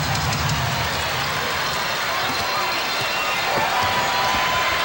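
Basketball arena crowd at a 1991 NBA Western Conference Finals game between the Lakers and Trail Blazers in Portland, a steady loud roar of cheering fans filling the space throughout, with sneaker squeaks and court noise faintly underneath.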